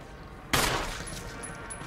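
A single sharp gunshot rings out in Resident Evil HD Remaster, loud and sudden, followed by a short fading tail.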